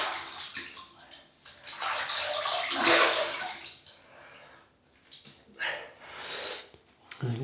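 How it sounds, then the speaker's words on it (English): Water splashes and sloshes in bursts as hands wet a face before a shave with a Wilkinson Sword Classic razor, close and fairly loud, with pauses and a few breathy sounds between splashes. "So we'll just wet"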